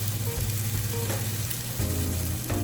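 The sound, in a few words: egg frying in a pan of sweet potato hash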